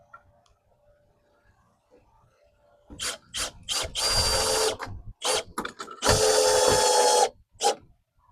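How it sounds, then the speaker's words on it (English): Power drill driving a long screw into a sagging wooden fence gate, in several close, loud bursts of whirring that stop and start, after a quiet lead-in with no talking. "I'm going to drill a hole in the bottom and get the bottom in"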